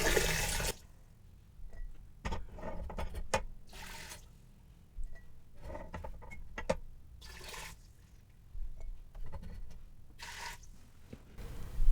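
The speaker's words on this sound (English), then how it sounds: "I'm dumping the hot water back into the canner" Hot water poured from canning jars back into a Nesco canner, a series of close splashing pours and gurgles in separate bursts, each a second or two long, with quiet gaps between.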